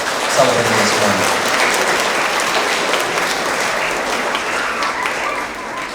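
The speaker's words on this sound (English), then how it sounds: "one big round of applause to all of our kiddos celebrating this morning." Applause at a 3rd–5th grade school award assembly, a crowd of parents and students clapping loudly and continuously for several seconds with a slight swell at the start.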